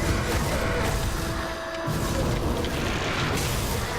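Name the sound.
explosions in video game Grim Dawn: Forgotten Gods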